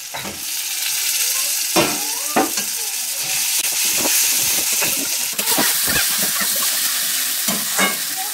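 Tomatoes hit a pan of frying spices, giving a loud steady sizzle and hiss broken by frequent scraping, clattering stirs of a spatula, with no one talking.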